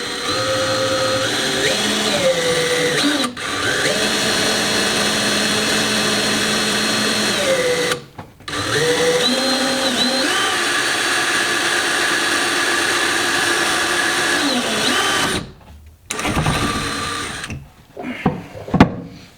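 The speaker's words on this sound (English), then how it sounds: "Always fun drilling into curved surface." A power drill whines steadily in long bursts into a curved surface of an SVC Cobra trunk, pitch shifting as it bites, with brief pauses between runs and a few clattering knocks at the end.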